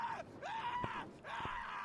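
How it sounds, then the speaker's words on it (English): A character in the stealth video game Dishonored: Death of the Outsider lets out strained, wavering screams and groans, rising and falling in a few drawn-out cries with sharp knocks between, fairly faint. "You don't have to scream that loud"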